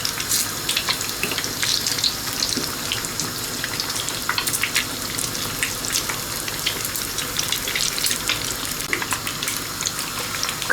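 Slices of bread for torrijas frying in hot oil in a pan, a steady close crackling sizzle with scattered sharp pops running throughout, no voices.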